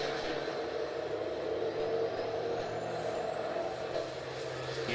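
A big rig race truck at South Sound Speedway heading deep into a corner, its engine a continuous loud roar with a rising whine, steady throughout at a middle distance.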